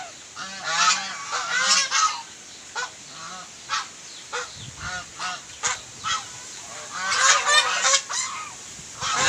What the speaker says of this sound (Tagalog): mga alagang gansa